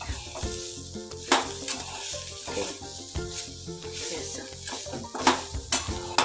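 A spice mixture for bitter gourd curry is stirred in a hot pan, giving a lively sizzle broken by frequent metallic scrapes and knocks of the spoon against the pan.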